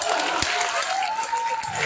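A small cluster of audience members at an Ambedkar Nagar festival poetry gathering claps sparsely, the thin patter mixing with crowd murmur and a voice drawing out a held sound over it.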